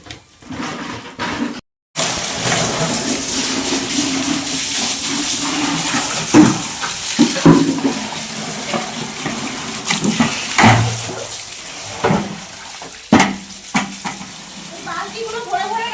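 Water from a machine-run pump pours into buckets, a steady splashing stream with small clattering knocks as buckets shift, close by, with a person talking over it.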